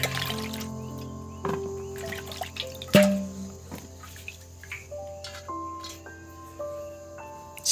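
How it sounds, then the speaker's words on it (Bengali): Cut potatoes being rinsed in a bowl of water, with sporadic sloshing, dripping and trickling plus an occasional louder splash or knock of pieces, close by and otherwise quiet. "আমি কেটে রাখা আলুগুলো ভালো করে ধুয়ে নেব"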